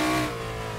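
A Shelby Daytona racing car in Assetto Corsa, engine revving loud and close with a rich, steady roar that eases slightly partway through.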